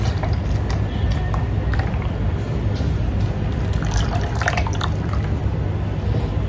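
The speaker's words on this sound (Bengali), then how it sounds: "এখন হচ্ছে কি মোটামুটি জাল করে রাখা এই দুধটা আমি এখানে ঢেলে দেব" Moderately boiled milk being poured into a homemade creamy pudding mixture, a steady liquid trickle and drip running close and continuous, with no talking.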